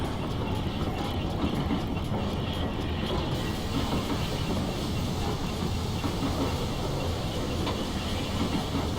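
A GWR Castle steam locomotive in Train Simulator 2016, running on the West Highland Line South: continuous loud rolling rumble and chuffing with faint rhythmic rail clatter, steady throughout with no talk.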